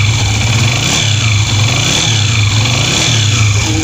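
A rebuilt Honda CD 70 motorcycle engine runs close by, its small single cylinder thrumming with a steady mid-pitched putter and light rhythmic swells of revving over a few seconds, no voices present.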